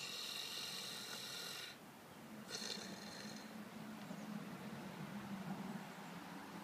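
Mouth-open imitation snoring by a person, a rough breathy rasp heard alone with two hissy bursts early on, then a steadier low droning tone continuing to the end.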